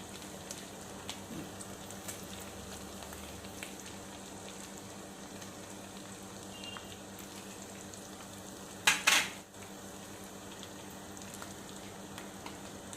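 Chicken frying with masala and coriander in a pan, a steady sizzle throughout with faint stirring scrapes and one brief louder clatter near the end, no talking.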